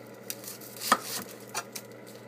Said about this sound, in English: Then we want to clean our onion up. We cut the top part off.